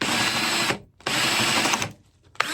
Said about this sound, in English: take you a scrap piece of wood and just drill you a hole